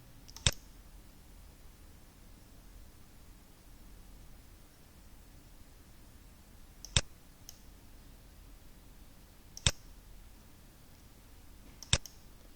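Mouse clicks while stepping through Java code in a debugger: four sharp, isolated clicks spaced several seconds apart over a faint steady hiss, close and fairly crisp, with no talking.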